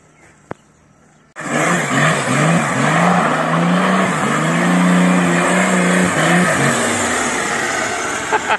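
Chevrolet Omega with a 6-cylinder engine being tested after a fresh rebuild, revving hard and loud close by after a quiet start, the engine note rising and falling in repeated pulls throughout.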